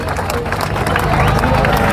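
Loud crowd noise at a political rally, with dense clapping and cheering from a large gathering, close and continuous, mixed with babble.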